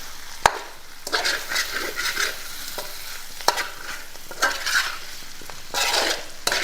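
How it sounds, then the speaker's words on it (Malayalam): Chicken fry masala is stirred and fried in a pan, with a steady close sizzle broken by scraping spatula strokes and a few sharp knocks against the pan. "ഇനി ഇതെല്ലാം കൂടെ നന്നായിട്ടൊന്ന് മിക്സ് ചെയ്ത് കൊടുക്കാം."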